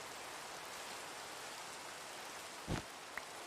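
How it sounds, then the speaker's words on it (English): Continuous rain pours in a video game, a steady even hiss with no voices, broken near the end by one short low thump and a faint click. "It is raining enough for me to sleep."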